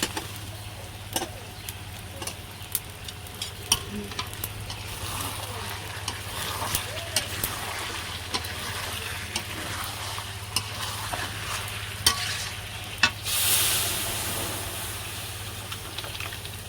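Meat cooks in a wok as a spatula stirs it, giving repeated scraping clicks over a low sizzle and a steady hum, with a brief hiss burst near the end.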